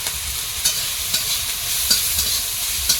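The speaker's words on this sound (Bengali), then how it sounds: "এই মশলাটা একটু ভেজে নেবো কম করে তেল দিয়ে" Spices frying in a small amount of oil in a pan, a constant bright hiss with occasional light spoon taps and stirs, close and fairly loud, with no voices.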